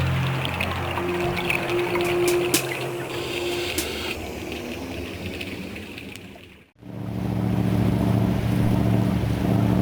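A boat motors steadily over the Aegean Sea, its engine drone mixed with rushing spray and wind, briefly dipping before resuming.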